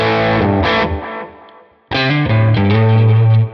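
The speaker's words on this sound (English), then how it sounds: "the capture has a little more grit to it" Gritty, distorted electric guitar tone from a Quad Cortex capture: a strummed chord that decays, a brief gap, then a loud sustained chord ringing out, close and alone.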